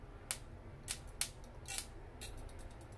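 An HHO high-voltage cap dump circuit gives off sharp, faint, irregularly spaced clicks, about a handful over a few seconds, against a low background hum with no talking.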